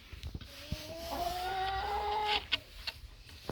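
A hen gives a drawn-out, wavering cluck-like call, with scattered clicks and scratching noises around it, fairly close.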